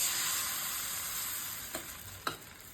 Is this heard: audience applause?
no